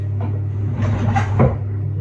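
A kitchen drawer slides open in a home kitchen while someone looks for baking parchment, giving a short rumbling scrape with a clunk near the end, close by and moderately loud.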